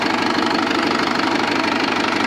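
Swaraj 843 XM tractor diesel engine running steadily, with an even, rapid knocking pulse and constant mechanical drone, close and loud with no talking.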